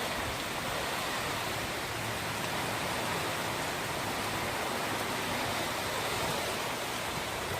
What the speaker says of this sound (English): The rain has picked up significantly.